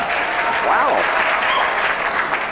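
Studio audience applause fills the whole stretch as a dense, steady wash of clapping, with a voice exclaiming briefly over it.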